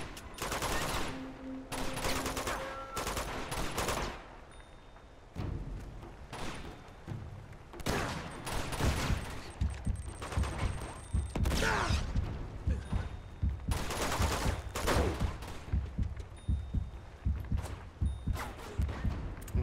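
Gunfire in the video game Uncharted 2: Among Thieves, repeated bursts of shots in clusters with brief pauses, fairly loud, mixed with footsteps and other game noise.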